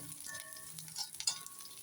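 Ginger, green chilli and garlic frying in hot oil for coconut rice, a quiet steady sizzle with light crackles and a couple of sharper pops, no voices.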